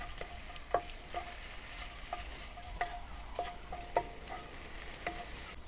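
Dried chili and onion sizzling in a hot wok for a Xinjiang-style cumin lamb dish, with a steady low fry broken by sharp scrapes and clinks as a spatula stirs them several times.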